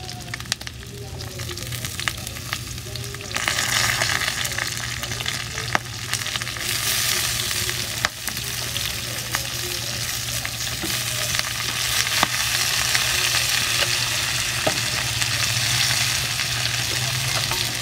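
Kangkong (water spinach) and beef stir-fried in a pan: a steady, close sizzle that grows louder after the greens go in, with scraping stirs and clicks throughout and no talking.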